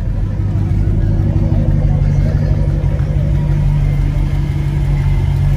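A Ram pickup truck fitted with a ProCharger rumbles steadily and loudly up close at a truck meet, its deep engine note holding a continuous low drone with a slight rise in revs, while people talk over it.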